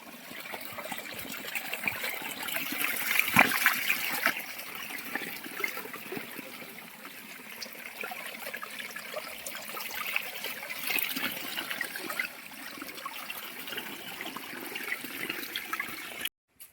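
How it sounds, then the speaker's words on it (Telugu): Continuous rushing of water pouring down from high above at the Sri Karnika Parameshwari temple in Honnavar, steady and moderately loud, like a stream or small fall nearby, with no voices. "వాటర్ ఇక్కడ ఎక్కడి నుంచో పైనుంచి వస్తున్నాయి అంత పైనుంచి"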